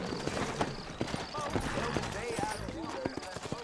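Horse hooves clip-clopping in Red Dead Redemption, a rapid run of sharp rhythmic hoof knocks under voices talking, with a faint tonal whinny-like rise in the middle.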